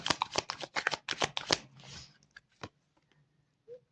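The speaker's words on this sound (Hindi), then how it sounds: "so now I will pull the final card of present situation" Tarot cards shuffled and pulled from a deck: a fast run of crisp papery riffling flicks for about two seconds, then a few isolated soft slaps and taps as a single card is drawn and laid down, close and quiet.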